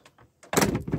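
A fly screen door on a Fiat Ducato Bessacarr 412 campervan is pulled across, a few faint clicks followed by a loud close sliding rasp that ends in a brief rattle.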